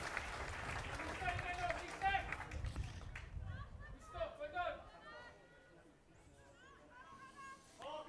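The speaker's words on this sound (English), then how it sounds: "it's nice to see a crowd at the match. It's a limited crowd" Scattered applause and claps from a limited crowd at a women's camogie match, Cork against Limerick in a Munster senior final, rising briefly after a score, with crowd chatter and commentators talking throughout.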